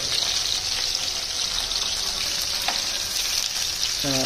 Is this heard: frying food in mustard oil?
yes